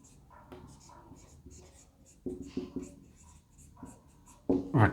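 Pen scratching on a sheet of paper in irregular short strokes during a maths lesson, close and clear, with a heavier burst of scribbling at the end and quiet speech faintly underneath.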